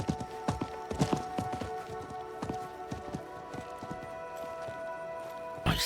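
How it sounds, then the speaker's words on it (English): A merchant's horse gallops in the video game Diablo IV, with rhythmic hoof clip-clops repeating steadily at a moderate distance over a low ambient bed and a brief louder burst at the end. "I think that was the merchant's horse."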